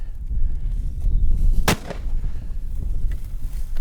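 A single sharp rifle shot fired at a hunted animal, loud and close, cracking out once over low rumbling outdoor background noise.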